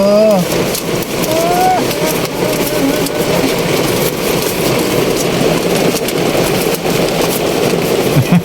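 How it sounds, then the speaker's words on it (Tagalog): Heavy rain pours in a dense, steady roar from start to finish, with a few voices briefly speaking and calling out over it. "Ang lakas ng ulan."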